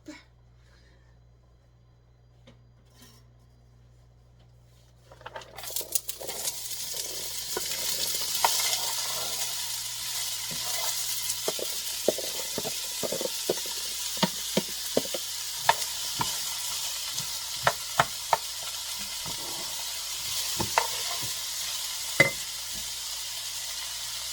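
Vegetables hit a hot pan after about five seconds of near silence and then sizzle steadily, with irregular clicks and scrapes of stirring punctuating the continuous frying hiss.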